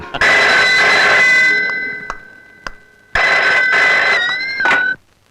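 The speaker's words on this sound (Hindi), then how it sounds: "आपका टेलीफोन है।" An old-style telephone bell rings loudly in a Hindi film scene, two long bursts separated by a short pause, with no talking.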